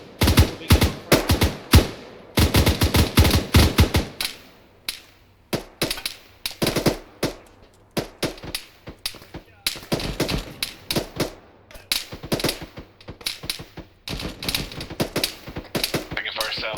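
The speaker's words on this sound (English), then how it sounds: "Taking fire south." Rapid bursts of automatic rifle and machine-gun fire in ArmA 3 co-op play, sharp cracks in dense volleys with short pauses, some near and loud, others more distant, with occasional voices under the shooting.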